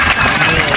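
Schoolchildren applaud at a science magic show in a rural government school, producing a dense, loud burst of clapping heard close up for a brief moment.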